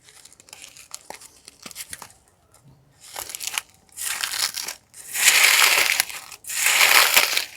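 Hands mix sliced onion and green chili with crumbled sun-dried lentil bori and fish, making close, crunchy crushing and crinkling in bursts that grow louder and longer toward the end.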